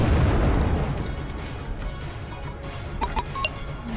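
Artillery guns fire in a Wargame Airland Battle battle, a heavy low rumbling boom fading from the start, followed by a few sharper distant pops and bursts near the end.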